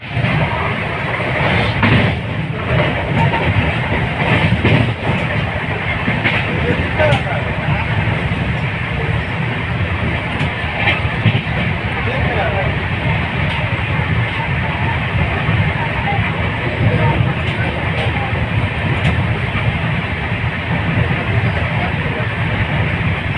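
A Janhit Express passenger train runs between Patliputra and Begusarai, giving a steady, loud rumble and rattle from start to finish. Someone talks over it the whole time.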